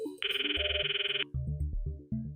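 Phone ringing in the Steins;Gate Elite video game: a bright, rapidly pulsing trill over a melodic ringtone tune, followed by a few more musical notes, clear and close with no talk.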